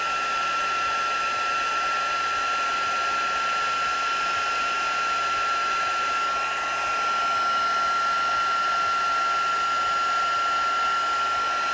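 A heat tool blows steadily and loudly close by while it melts embossing powder along the edges of a craft bauble, a constant whooshing roar with a thin high whine throughout.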